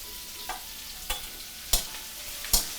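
Garlic frying in a pan for Hainanese pork chop, with a faint steady sizzle under four sharp scraping stirs spaced about half a second apart.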